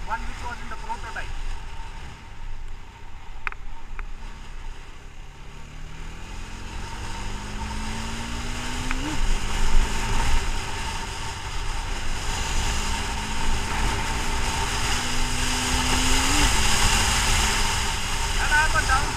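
A Bajaj Dominar 400 motorcycle engine drones steadily, with revs climbing and then dropping sharply twice as it downshifts, while a person talks over it throughout.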